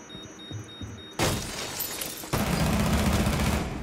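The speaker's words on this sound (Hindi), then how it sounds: "आवाज आ रही है फायरिंग की।" Gunfire erupts suddenly after a quiet start, a dense, loud crackling burst followed by a second heavier barrage that continues to the end, with no one speaking.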